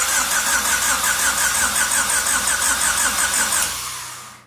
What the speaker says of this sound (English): Dude, it turns over.